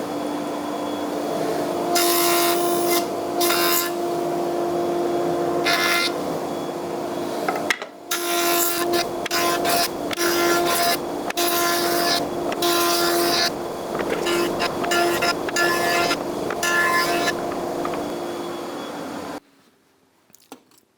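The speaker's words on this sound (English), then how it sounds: "I'm going to use spiral block planer" A spiral block planer with many small teeth machines timber in bursts, a loud whirring hum overlaid with repeated rough cutting passes that start and stop, then a sudden drop to quiet near the end.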